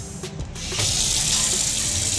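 Water gushes from a newly installed plastic faucet into a sink, a steady rushing stream that starts abruptly after a brief quieter moment and keeps flowing strongly to the end.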